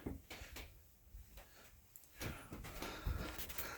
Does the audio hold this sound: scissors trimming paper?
no